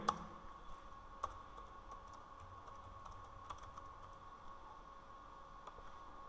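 Code being typed on a computer keyboard in a Jupyter notebook, a quiet, uneven run of soft key clicks with a few sharper taps, no talking.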